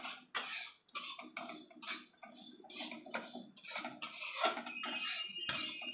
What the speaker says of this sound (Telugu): కలుపుకొని మొత్తం ఆయిల్లో ఫ్రై అయ్యేటట్టు కలుపుకొని వేయించుకొని సైడ్కి తీసి పెట్టేద్దాం